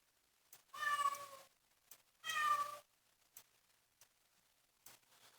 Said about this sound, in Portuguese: Minha gatinha tá miando ali atrás.